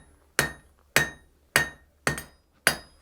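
A blacksmith's hammer strikes hot metal on an anvil in five sharp, ringing blows spaced about half a second apart, each decaying quickly, with no talk.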